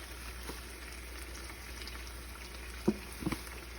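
Garlic and butter sizzling in a frying pan, a soft, steady hiss with a few sharper crackles and pops near the end, close and fairly quiet.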